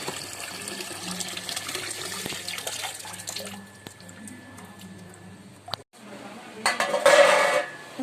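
Tap water runs into a container at a home kitchen sink, a soft steady stream under faint household clatter, with the flow cutting off and a brief louder splash near the end.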